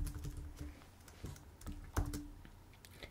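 Someone types on a computer keyboard, a short run of soft, irregular key clicks close by, quiet, with a faint low hum underneath.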